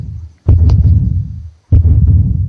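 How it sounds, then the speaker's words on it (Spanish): Two deep, booming heartbeat thumps from a sound effect, each a heavy low pulse separated by about a second of near silence. "Como los latidos del corazón"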